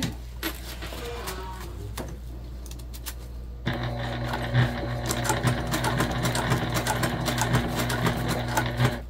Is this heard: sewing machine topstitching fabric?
yes